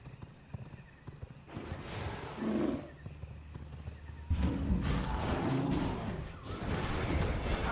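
Horse hooves clip-clop at a quiet level in the vampire survival game V Rising, with a couple of whooshing swells and one louder burst partway through as a mount is summoned again.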